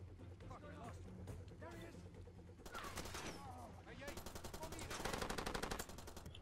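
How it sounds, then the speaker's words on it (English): Rapid machine-gun fire aimed at the player in the video game Far Cry 2, rattling bursts that grow louder and denser, with someone talking under the shooting. "I can't even see where I'm getting shot from"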